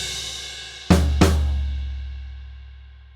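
Drum kit hits at a loud, energetic opening: two sharp strikes less than half a second apart, crash cymbal with bass drum, floor tom and snare, after which the cymbal wash rings out and slowly decays on its own.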